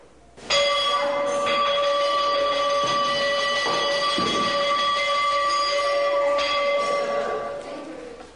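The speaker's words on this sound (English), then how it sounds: "The bell sounds 3 times daily, in the morning, at midday, and in the evening" A meal bell at the Theosophical Society headquarters in Adyar rings with a sustained, sharp metallic tone, its strikes blending into one continuous clang that carries loud and close for several seconds before fading.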